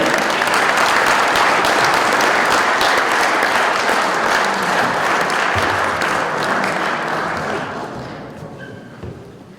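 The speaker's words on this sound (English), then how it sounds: "Please welcome Mr. and Mrs. Quelle, Corinna and Herbert Quelle over here with a warm applause." Loud, sustained applause from a large audience fills the room, steady for several seconds before tapering off near the end.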